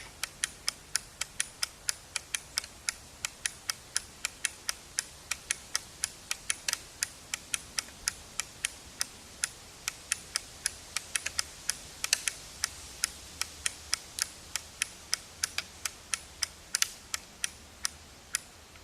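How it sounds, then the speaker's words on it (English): A crossbow is cocked with a long, steady run of small, crisp, evenly spaced clicks that are close and fairly faint, continuing for the whole stretch until it sets into the safety position. "Now, you heard the click, it's pushed out. Now it's in the safety mode position."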